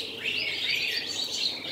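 Bright chirping and twittering from many small birds, a dense chorus of calls throughout, fairly close, among pigeons at a bird market in Al Ain, UAE.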